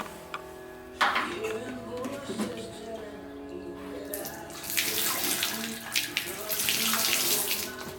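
Running water from a tap washes out a fractal woodburned wood piece. Splashing starts in short bursts, then turns into a louder, steady gush during the last few seconds.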